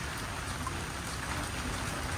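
Steady rain falls beside Hoan Kiem Lake in Hanoi, a continuous dense hiss of drops on surfaces, fairly quiet and unbroken, with no voices.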